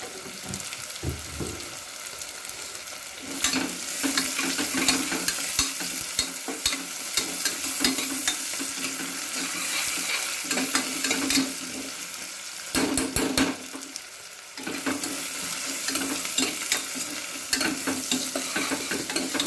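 Chopped onions sautéing in a pan for paneer biryani, a loud continuous sizzle broken by repeated stirring scrapes and clatters, with a brief lull midway and no talking.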